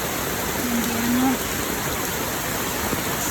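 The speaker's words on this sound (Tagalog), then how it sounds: "tingnan sila kasi sobrang lakas ng ulan no." Heavy morning downpour with flooding nearby, a dense, steady roar of rain close by and continuous throughout, with a brief faint voice partly buried in the noise.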